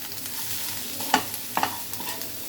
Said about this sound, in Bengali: আলু পেঁয়াজ একসাথে সব কিছু ভালো করে ভেজে নিব।